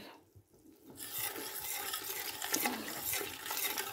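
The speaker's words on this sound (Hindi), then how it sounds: "मैं इसको अच्छी तरह से भून" Spices with salt, chili, turmeric and whole garam masala roasting in a pot, a brief quiet scrape followed by a loud, steady sizzle with scraping stirs.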